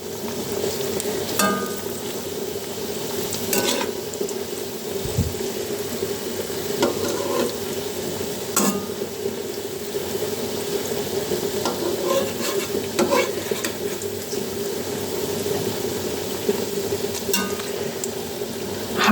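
Cabbage pakoras frying in oil in a pan over low heat, a dense constant bubbling sizzle with occasional scraping and tapping of a spatula, close and fairly loud throughout.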